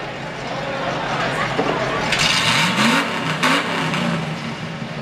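Car engine revving hard at a 4-wheel jamboree burnout contest, front wheels chocked, the roar rising and surging with a crowd and announcer-like voices mixed in.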